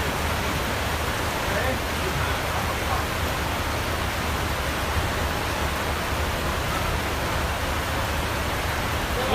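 Steady, dense hiss of rain falling continuously, broadband and even throughout with no breaks, fairly close.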